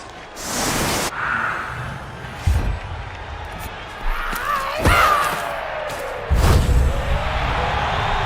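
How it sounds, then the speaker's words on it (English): A virtual stadium crowd roars and cheers in the fantasy football video game Blood Bowl, surging in loud bursts with thuds and shouts mixed in, while a commentator talks over it. "Cheering fans,"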